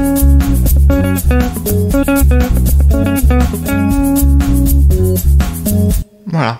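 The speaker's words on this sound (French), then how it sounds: "Donc là, c'est un son de guitare sec." Dry, unprocessed acoustic guitar playing a rhythmic pattern of plucked notes and chords, close and clear, ending abruptly before a short spoken word.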